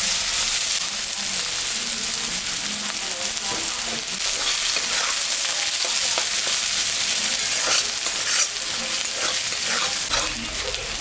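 Dried chili, bay leaf and cumin sizzle steadily in hot oil left from frying fish for a rohu curry, a dense continuous crackle with sharper pops, close and loud and without talk.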